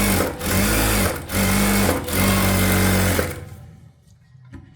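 A sewing machine stitches along the edge of a blouse in three steady bursts of rapid mechanical whirring, briefly pausing between runs before stopping into quiet near the end.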